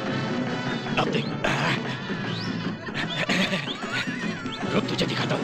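A horse neighs loudly in a Bollywood comedy film scene, with whinnies rising over a busy, dense soundtrack and hoof clip-clops, while brief shouts and crashes break in throughout.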